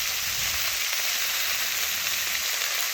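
Sliced potato and carrot with turmeric and chili powder fry in hot oil, giving a steady, dense sizzle that runs unbroken throughout at close range with no voices.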